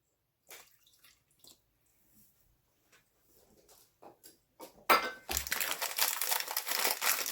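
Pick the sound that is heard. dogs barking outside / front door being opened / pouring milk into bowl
pouring milk into bowl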